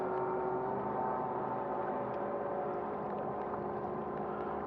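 A 380 watt electric motor drives a kayak on water, giving a steady, even whir that holds for several seconds without change.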